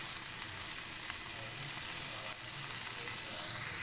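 Sticks fry in a pan over a medium-to-low flame, giving a steady, even sizzle with faint crackles throughout and no voices.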